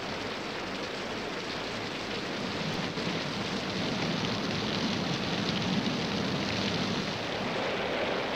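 Steady rain falling on rocky mountain slopes, a dense, even hiss of drops throughout, moderately faint and without voices.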